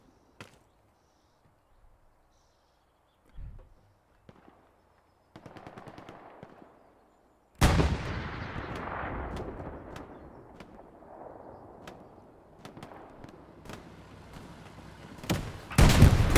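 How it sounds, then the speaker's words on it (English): Self-propelled artillery rounds land in a battlefield video game. A few faint thumps and a burst of rattling fire lead into a massive blast that rolls out into a long rumbling tail, with sharp cracks scattered over it and another heavy explosion at the end. "SPA rounds coming over here."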